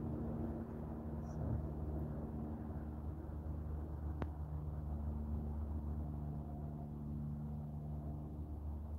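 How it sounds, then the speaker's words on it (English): Distant airplane engines drone and rumble continuously overhead, a low steady roar with no talking. "Airplanes, lots of airplanes."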